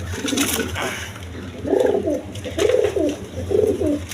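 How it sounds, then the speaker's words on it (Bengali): Gorra pigeons, a fancy breed kept in a seller's loft, give soft, rolling coos close by, three or four repeated phrases over a low background hum with no talking. "দেখেন গররা কবুতর"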